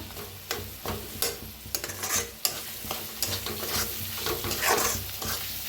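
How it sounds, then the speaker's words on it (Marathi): Masala roasts in oil in a pan, a soft, steady sizzle with repeated scraping and stirring knocks from a spoon. All of it sounds close but fairly quiet, and no one speaks. "आता छान भाजून घेऊया। छान भाजायचं, तेल सुटूस तर म्हणजे मसाला।"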